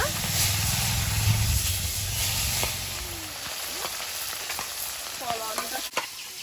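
Steady sizzling and crackling of fish frying in hot oil in a wok, loud and close, with a few faint clinks and soft voices in the background.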